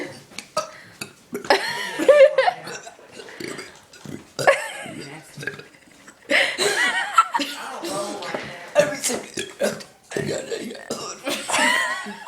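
A child lets out several throaty burps amid giggling, chuckles and chatter from others nearby, the bursts close and uneven across the stretch.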